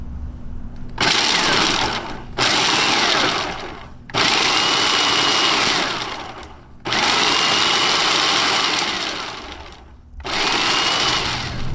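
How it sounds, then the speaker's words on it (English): A food processor pulses hot cocoa mix with white chocolate chips, chopping them down: five loud whirring bursts of one to three seconds each, separated by short pauses, close up with no talking. "we're just going to pulse this several times until I feel like it's all mixed and the white chocolate chips have been cut down to size just a bit"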